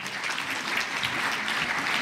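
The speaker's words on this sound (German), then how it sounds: "Einen großen Applaus bitte" An audience applauds at a school stage event, a steady wash of hand clapping that carries on throughout without pause.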